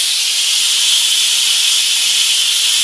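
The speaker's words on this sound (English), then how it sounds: "The steam seems to be better now." Steam hissing steadily from a rocket stove boiler running at around 30 psi: a continuous, loud, bright hiss with no change in level and no other sounds.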